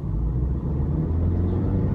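A 2016 Honda Fit with a 130-horsepower 1.5-liter engine accelerating, heard from inside the cabin as a steady, fairly loud low engine drone and road rumble, with no talk over it.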